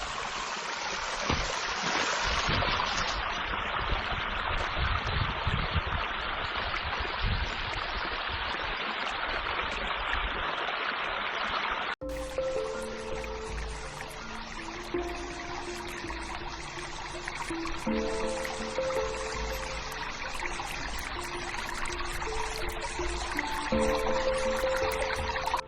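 A creek flows steadily through a snowy forest, its broad rushing wash loud and close for the first half, then settling into a softer trickle beneath faint scattered tones and ambient sounds.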